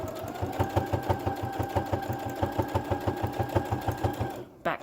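A sewing machine stitching a three-layer fabric face mask runs at a steady, rapid needle rhythm, a loud mechanical whirr and chatter that stops abruptly near the end.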